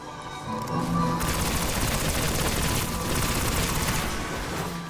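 Sustained rapid gunfire from the Destiny video game, a dense continuous burst of automatic shots that swells after the first second and rattles on loudly to the end, with no talking.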